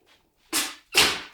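A West Highland terrier sneezes twice in quick succession, two sharp, close bursts of breath after a faint snuffle.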